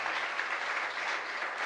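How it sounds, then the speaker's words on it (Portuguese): A church congregation gives the Lord a round of applause, a steady dense wash of many hands clapping together, even and sustained without a break. "Dê uma linda salva de palmas ao Senhor."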